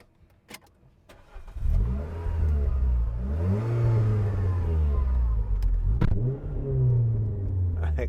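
A 2010 Renault Clio 2.0 VVT Renaultsport three-door hatch fires up with a push-button start, then settles into a strong idle with repeated rising and falling revs, loud and close throughout.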